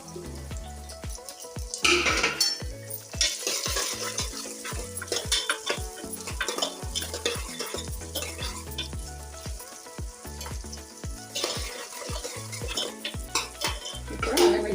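Two onions fry in a pan for mutton curry with chilies, making a steady sizzle while a utensil scrapes and knocks against the pan in repeated stirring strokes, close and alone.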